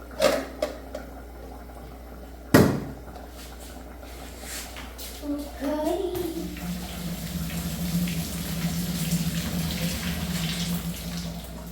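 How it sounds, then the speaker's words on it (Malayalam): Hot water is poured off freshly boiled tapioca in a home kitchen. A few clunks come first, then a steady, gurgling stream of draining water runs close by with faint background noise. "ഇങ്ങനെ വെള്ളം മൊത്തം ഊറ്റിക്കളയാ"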